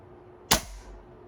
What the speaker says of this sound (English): now I can put my finger over that to dry fire